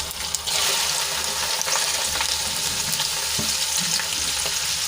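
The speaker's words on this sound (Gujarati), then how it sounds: "હિંગ ઉમેર્યા બાદ આપણે ભીંડાની એડ કરી દઈશું" Okra sizzles in hot oil with popped mustard seeds and asafoetida, giving a loud, steady, close frying hiss with occasional stirring.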